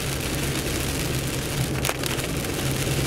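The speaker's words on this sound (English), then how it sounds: "But now, of course, it's rainy." Steady rain drumming on a car's roof and windshield while driving, a dense continuous hiss over low road rumble, with no talking.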